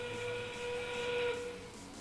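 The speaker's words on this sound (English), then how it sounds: "That whistle means we have 30 seconds left to play" A long, steady whistle blast signals the end-game period at a robotics competition, heard faintly over arena hiss and crowd noise.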